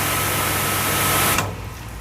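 A heavy-duty high pressure car washer motor runs with a steady, fairly quiet broadband whir and low hum, close by, then drops to a softer level near the end of the two seconds.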